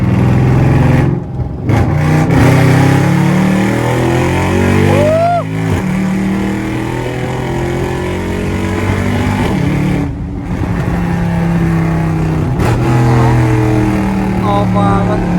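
A motorbike engine revs loudly and close by, its pitch swelling and falling in repeated throttle blips while people talk over it.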